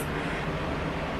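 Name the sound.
electric fan running in a hotel room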